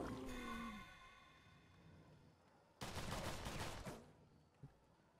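A single burst of gunfire in the post-apocalyptic game Wasteland 2, fairly loud against a quiet background, lasting about a second and followed by a short sharp tail.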